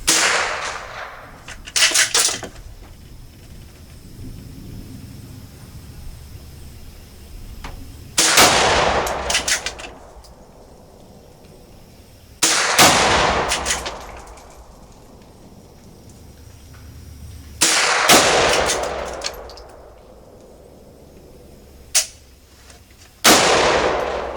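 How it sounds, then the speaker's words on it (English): Gunshots ring out outdoors, four loud separate volleys spaced several seconds apart, each a cluster of sharp rapid cracks followed by a long fading echo, with a final shorter burst near the end. "Gun shoots better if it's loaded, Phil."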